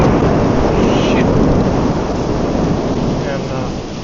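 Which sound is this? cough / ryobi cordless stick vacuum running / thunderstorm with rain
thunderstorm with rain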